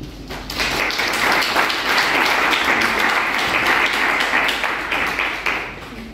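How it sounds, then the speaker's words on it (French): An audience at a World Africa Day celebration applauds to welcome a consul, a dense, sustained round of clapping that swells quickly, holds steady, then fades slightly near the end. "Je vous demande d'applaudir, mesdames, messieurs, monsieur le consul Ibrahima Mbodji."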